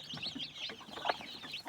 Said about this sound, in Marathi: ही 2 कोंबडीची पिल्ले आहेत.